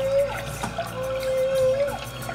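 Underwater bubble stream from a humpback whale exhaling while circling during bubble-net feeding, a continuous watery gurgling trickle with a steady tonal line running through it, close and fairly loud, with no speech.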